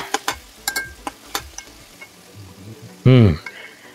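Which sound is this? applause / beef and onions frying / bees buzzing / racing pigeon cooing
beef and onions frying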